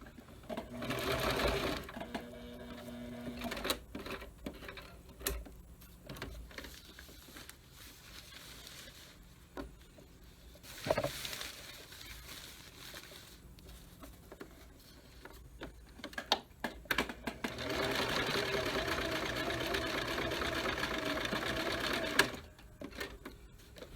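Sewing machine stitching slippery TWR fabric, running in several short bursts and one longer steady run, with quiet pauses and faint handling noises between them, close by.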